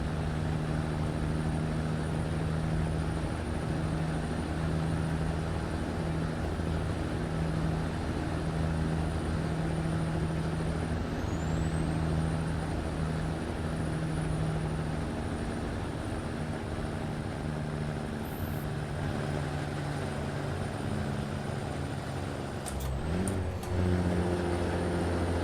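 Heavy 475-horsepower truck engine labouring up a hill on the Dalton Highway, a steady, droning low rumble with a constant whine sustained throughout, close and unbroken, with a brief shift near the end.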